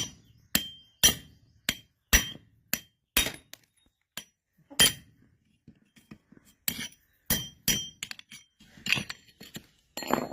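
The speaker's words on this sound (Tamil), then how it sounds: "அடுத்தது அந்த பேரிங்கை கட்டையோட மேல் பகுதியில் வச்சு பேரிங்கோட மேல் பகுதியை அடித்து உடச்சி எடுத்துடலாம்" A hammer strikes the top of a broken grinder's bearing set on a wooden block: a series of sharp metallic bangs, irregularly spaced, some heavy and some lighter, ringing briefly between pauses.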